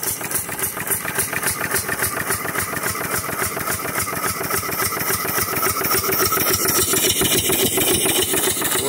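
A Simpson Strickland quadruple-expansion tandem steam engine runs close by, producing a fast, even rhythmic chuffing and clatter that grows slightly louder toward the end.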